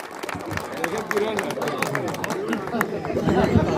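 Crowd applause at a Hindi comic poetry gathering (kavi sammelan) welcoming poet Akhilesh Dwivedi, dense clapping mixed with audience chatter and a voice over it, steady and close, swelling slightly toward the end.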